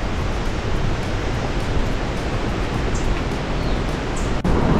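Steady broadband rushing of the Cusiana River flowing near Salto Candelas in Boyacá, Colombia, a continuous loud wash of water filling the whole stretch with no voices, with a brief dip near the end.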